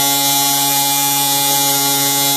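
A coil tattoo machine powered through a clip cord runs in a steady, close electric buzz with a strong low hum, continuous and unbroken, with no talking.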